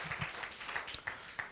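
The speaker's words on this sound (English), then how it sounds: "Another clap as you take your seats" Light, scattered clapping from a small crowd at a church-hosted dinner in Washington, USA, soft and uneven, with a few sharper claps standing out.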